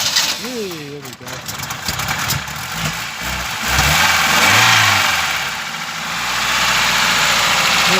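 Ford Transit Pinto classic motorhome engine revving up, then settling into a rough, rattling idle, loud and close, with voices talking over it early on.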